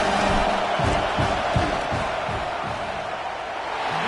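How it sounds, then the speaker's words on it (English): Stadium crowd noise in a football video game during a field goal attempt, a dense, loud roar of many voices that swells and sustains with scattered shouts, running continuously without commentary in the clip. "This crowd trying to do its part to get inside the kicker's head."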